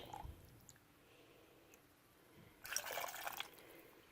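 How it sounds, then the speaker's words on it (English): Hot water pouring into a canning jar of potatoes in a short burst near the end, after a mostly quiet stretch with faint clinks. "I'll finish filling this jar with liquid, just with hot water."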